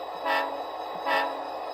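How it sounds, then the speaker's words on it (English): A sound decoder in an Athearn SD40T-2 model locomotive of the D&RGW plays a steady, reedy diesel horn tone. It swells twice in a short span, faint and close, with no voices. "Next, we have Longhorn. Along with the short horn."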